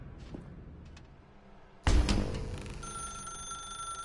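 A telephone in the video game The Stanley Parable starts ringing abruptly after a quiet, faintly ticking stretch, with a loud bright bell tone that rings on steadily and fairly close.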